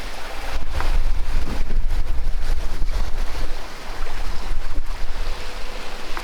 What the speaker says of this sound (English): now we have, as you can see,